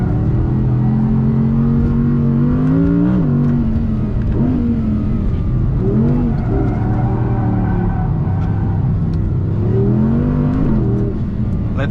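An Audi R8 GT engine revs hard through spirited driving, a loud, close, continuous roar that rises and falls with repeated gear changes and throttle swells across the whole stretch.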